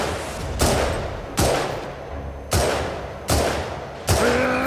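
Five heavy gunshot blasts in the DigiGods video game, each a sharp boom with a long fading tail, spaced roughly a second apart.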